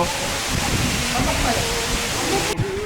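A waterfall in a rocky mountain gorge roars as a dense, steady wash of falling water, loud and continuous, with someone talking faintly beneath it.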